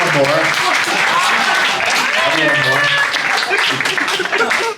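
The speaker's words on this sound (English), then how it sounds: "let's have a round of applause" Applause from the audience at a WWE Money in the Bank 2024 press conference, a steady dense patter lasting throughout with voices and chatter mixed in underneath.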